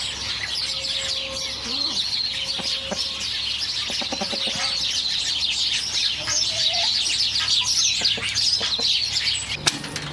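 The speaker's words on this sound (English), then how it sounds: "Good morning, baby chickies." Baby chicks chirping in the morning, a dense chorus of close, high peeping with some clucking and a sharp knock near the end.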